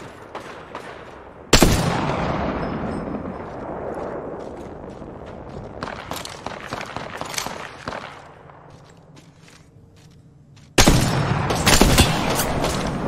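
Gunfire in an Apex Legends pro scrimmage match, with loud sharp bursts of automatic fire breaking out at intervals over footsteps and movement, several heavy volleys separated by quieter stretches.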